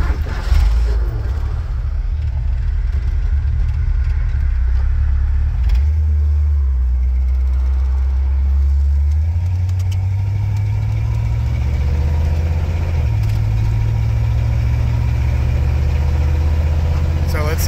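A 1966 Ford F100 pickup truck's engine hums and rumbles steadily while driving, shifting pitch as it accelerates, with road noise throughout and no clear speech.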